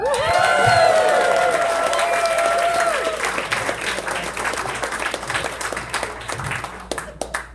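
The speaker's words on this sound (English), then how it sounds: "Please give a big round of applause for David Stein." Applause and cheering for a comedian at a comedy club in Albany, loud clapping with whoops at first that thins into scattered claps as the crowd settles, no speech heard.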